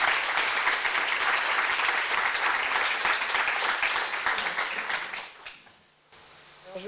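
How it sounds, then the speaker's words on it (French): Audience applause at a round-table discussion on breast cancer and work, dense steady clapping that fades out after about five seconds into quiet room tone. "Vous pouvez les applaudir."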